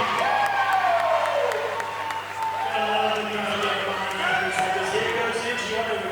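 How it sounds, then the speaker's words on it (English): Crowd at a CrossFit competition in Africa cheering and applauding throughout, with scattered whoops and claps under a commentator's talk. "we could hear the crowd going a little bit wild"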